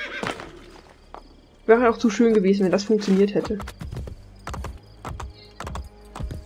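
Horse neighing in the video game Assassin's Creed Brotherhood, a loud close whinny followed by clopping hoofbeats, with someone talking over the game sounds.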